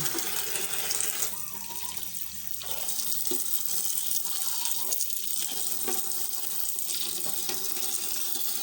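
Water runs steadily from a tap over eggs being washed clean for salted eggs, with a continuous broadband splashing rush lasting throughout and no talk.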